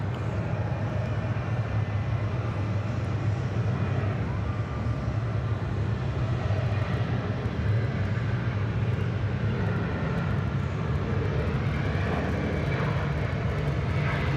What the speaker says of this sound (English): It looks like a Delta 777 headed out there too.